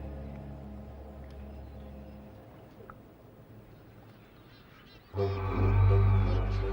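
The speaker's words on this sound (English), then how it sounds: "In summer, Raine Island is home to tens of thousands of seabirds." Seabird colony on Raine Island in summer, a dense mass of honking, goose-like calls that rises suddenly and loudly partway through over steady background noise.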